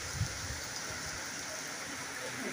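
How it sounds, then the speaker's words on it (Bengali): Heavy rain pours down outdoors under a dark sky, a dense, steady hiss of downpour that holds at one loud level for the whole stretch with no break. "মুষলধারে বৃষ্টি হচ্ছে, খুব জোরে এসেছে বৃষ্টি বন্ধুরা।"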